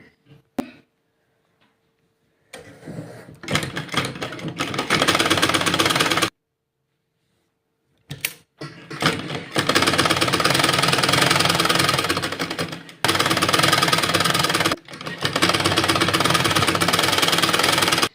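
A sewing machine stitches a shirt collar in several loud, continuous runs separated by short silent pauses.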